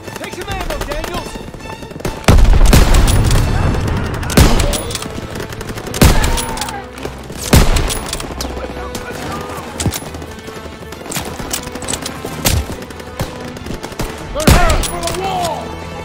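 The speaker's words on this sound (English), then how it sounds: "Open fire! Someone get on the MG!" Call of Duty WWII battle with loud, close rifle shots and bursts of machine gun fire cracking irregularly over a sustained din of combat, with shouted voices mixed in.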